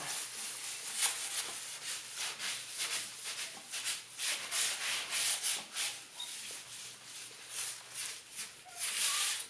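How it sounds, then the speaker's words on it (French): Wet paper dipped in wood ash scrubs the inside of a wood stove insert: steady, close rasping strokes in an uneven back-and-forth rhythm, with no voices. "je vais le tremper dans la cendre et je vais venir nettoyer comme ça mon insert"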